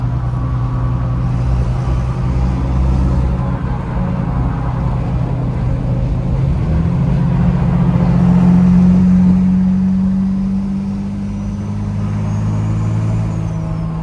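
A custom truck's engine with an exhaust stack rumbles steadily and fairly loud at close range, a low drone that swells slightly midway as it revs, with no talking.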